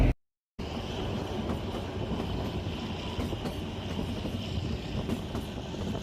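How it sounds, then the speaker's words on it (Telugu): Kalka–Shimla toy train running on the narrow-gauge mountain line at dawn, a steady rumbling roll with wind buffeting across the carriage after a brief dropout at the start. "మన ట్రైన్ అయితే ఇప్పుడే స్టార్ట్ అయిందండి"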